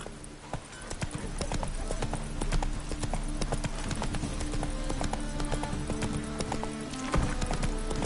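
Roach gallops in The Witcher 3: Complete Edition on PS5, with a close, brisk clatter of hooves running through the whole moment, laid over a low music bed and a spoken line.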